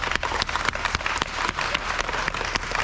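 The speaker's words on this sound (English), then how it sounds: "So let's give them a round of applause." A crowd claps at the Pacific Air Show 2024 media day opening ceremony, a moderate, scattered round of applause with distinct individual hand claps standing out, lasting a few seconds without speech.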